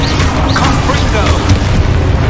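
A fiery Confringo spell bursts in Hogwarts Legacy, a loud booming blast with a crackling tail that stays dense and close throughout, under a busy layer of game noise.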